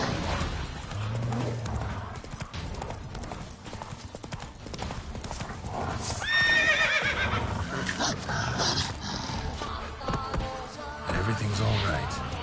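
Geralt's horse Roach in The Witcher 3 trots with rhythmic clip-clopping hooves and lets out a loud whinny midway, while game music and a brief voice sit underneath.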